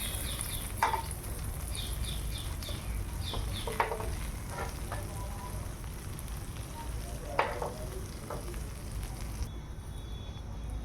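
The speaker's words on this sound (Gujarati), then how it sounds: "દાબેલીને આપણે બટરમાં શેકી લઈએ." Dabeli toasting in butter on a hot pan, a steady close sizzle with occasional sharper crackles and pops throughout, no voices.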